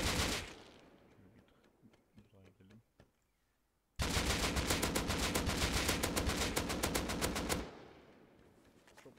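An AK rifle with a holographic sight fires in the video game Rust: a brief shot or two, a short pause, then a long loud sustained burst of rapid automatic gunfire that stops abruptly.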